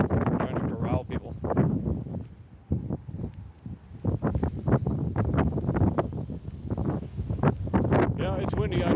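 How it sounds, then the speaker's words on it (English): Gusty wind buffeting a microphone in rough, uneven bursts, with a person talking through the rumble. "Yeah, it's windy, I know,"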